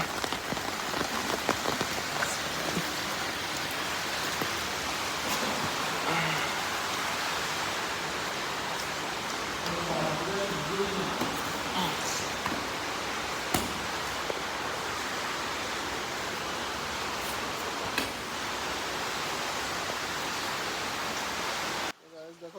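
Heavy rain pours steadily over a flooded area, a dense unbroken hiss of drops on surfaces with occasional sharp ticks and faint voices in the background.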